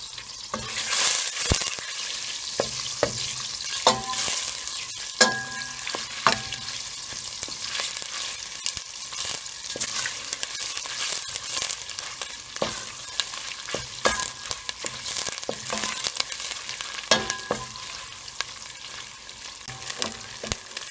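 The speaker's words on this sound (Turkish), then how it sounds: "Salçayı iyice kavurmamız lazım." Tomato paste sizzles loudly in a hot pan while a utensil scrapes and stirs it in repeated, irregular strokes, close up.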